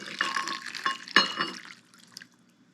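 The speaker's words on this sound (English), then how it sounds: "I'm going to add to this a cup of boiling water" Boiling water splashes and pours briefly into a bowl of plums, a short liquid gush that trails off into quiet.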